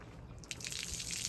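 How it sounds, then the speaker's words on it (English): Water leaks from the zipper of an upside-down backpack cooler and patters onto cement. A faint start swells into a close, steady splatter of drips and a trickle. "It does look like the water is leaking out from the zipper"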